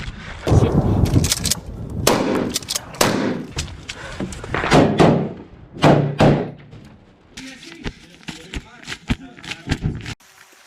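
Gunfire during a paratrooper combat exercise: a rapid series of loud, sharp shots and thuds in quick bursts, with shouted voices between them, followed by a quieter stretch near the end.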